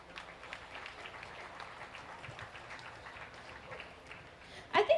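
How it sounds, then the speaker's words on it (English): Faint, distant applause rolls through the ring at a county fair beef show for the bull exhibitors, a soft, steady patter with a voice over it and a sudden louder knock at the very end. "Let's give our bull exhibitors a big round of applause."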